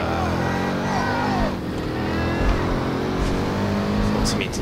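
Car drifting in a first-person driving game, a loud sustained engine whine with rising and falling revs and tire noise, with faint voices in the background.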